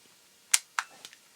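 Fujica 350 Zoom 110 film camera shutter firing: a crisp mechanical click followed by a second click and a faint trailing tick, close and isolated in a quiet room.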